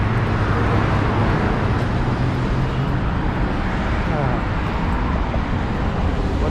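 Morning city street traffic in New York rumbles close and constant, a dense steady roar of passing cars with no pauses.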